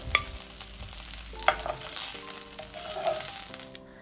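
Fried hilsa fish pieces lifted from a frying pan onto a plate, with steady oil sizzle throughout, scraping and clinking taps of a spatula, and a few sharper knocks against the pan.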